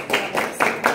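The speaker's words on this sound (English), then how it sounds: "yeah, a round of applause" A small audience claps at a women's football league event in South Africa, a few quick bursts of sharp, close hand claps in a loose rhythm.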